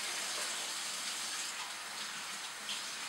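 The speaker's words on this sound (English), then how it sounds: "Wash my hands again" Tap water runs steadily for washing hands at a kitchen sink between stages of mixing biscuit dough, a continuous broadband rush heard alone without talk.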